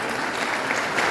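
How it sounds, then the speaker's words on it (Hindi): Enthusiastic applause welcoming high earners at an RCM business meeting, a steady, dense clatter of many hands from the audience, rising slightly at the end, with no speech over it. "एक बार इन लोगों को जोरदार ताली बजाकर स्वागत करते हैं।"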